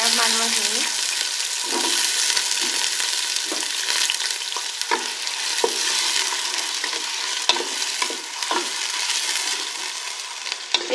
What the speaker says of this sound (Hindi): प्याज को हम लोग हल्का सा फ्राई कर लेंगे और फ्लेम को हम लोग हाई पे ही रखेंगे।